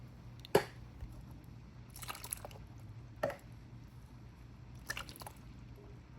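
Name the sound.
canned stewed tomatoes being poured into an Instant Pot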